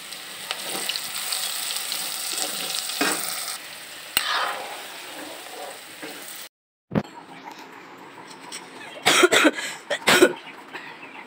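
Bitter gourd fries in a pan with a soft continuous sizzle, broken by a brief silence, followed by a few coughs and throat clearing nearby.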